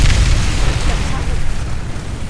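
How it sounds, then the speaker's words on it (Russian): A bomb detonating in a video game: a loud, sustained booming blast with a rumbling tail that fills the whole moment, dense and close. "Мы взорвали бомбу."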